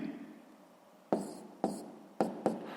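A pen writes out a math solution on paper, giving a soft scratch followed after a short quiet by four quick, sharp strokes, close and faint.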